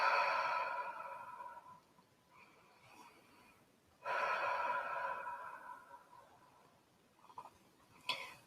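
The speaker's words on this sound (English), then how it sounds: "making sure that you are taking in nice deep breaths as you scan." Slow, deep human breathing, two long airy exhales and inhales with a pause between, close and clear, followed by a couple of brief softer breaths, with no talking.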